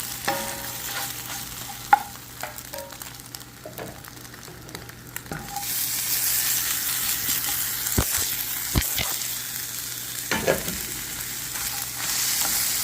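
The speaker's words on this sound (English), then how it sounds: "It's time to move these eggs around." Eggs fry in a pan and are pushed around, with scattered scrapes and knocks from stirring over a quiet sizzle that swells to a louder, fuller hiss partway through.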